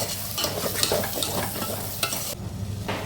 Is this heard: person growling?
no